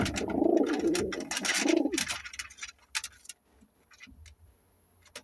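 Pigeons in a renovated coop give a few soft, throaty coos close by, followed by quieter scratches and shuffling in a still room.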